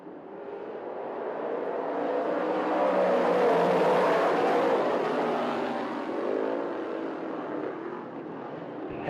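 Short track race cars roar down the back straightaway in a heat race, the engine noise swelling to a loud peak mid-pass and then fading slightly as the pack moves on.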